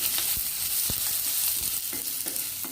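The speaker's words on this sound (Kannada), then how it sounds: "ಇದು ಚೆನ್ನಾಗಿ ಗೋಲ್ಡನ್ ಬ್ರೌನ್ ಆಗೋ ತನಕ ಫ್ರೈ ಮಾಡಬೇಕು." Slivered onions sizzling in hot oil in a pan, a steady bright hiss broken by occasional stirring taps, close and without voices.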